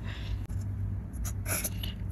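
Marker or pen writing out a math equation on a board, soft continuous scratching strokes at close range with brief pauses and no talk.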